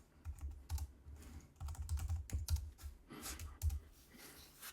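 Keys clatter on a computer keyboard as a terminal install command for Hyprpaper is typed, bursts of quick close clicks with short pauses between, no voices.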